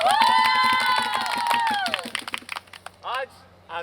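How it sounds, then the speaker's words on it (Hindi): Audience applause and cheering at an Independence Day evening show right after a performance, loud crowd noise with a long sustained musical or vocal tone over it at first, then scattered claps and shouts fading in bursts. "जोरदार तालियां।"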